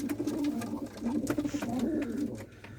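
Low, throaty cooing from a male pigeon repeats in a soft rolling rhythm, close by, with faint rustling and ambient noise around it.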